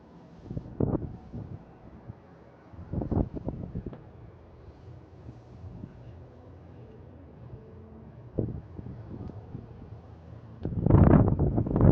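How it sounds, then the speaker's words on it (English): Wind buffets a microphone outdoors in low rumbling gusts that swell and fade, with a stronger roaring blast near the end and no talking. "It's a bit windy."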